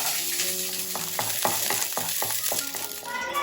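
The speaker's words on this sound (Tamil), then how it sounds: "ஸோ நான் இப்போ பூண்டு போட்டுக்கிறேன்" Garlic frying in a pan, a loud, steady close sizzle with scraping and stirring knocks from a utensil over it, no talking.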